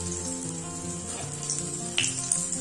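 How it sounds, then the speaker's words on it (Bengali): Puffed rice snacks frying in hot oil, giving a soft steady sizzle with a few sharper pops and crackles toward the end, close and fairly quiet, under a low tonal background hum. "এইভাবে নাস্তাটা চারিদিকে আমি ভালো করে লাল লাল করে ভেজে নিচ্ছি।"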